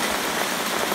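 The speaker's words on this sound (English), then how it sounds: "it is hailing like crazy here" Hail falls hard and steadily outside a house in May, a dense, constant patter with no breaks and no voices.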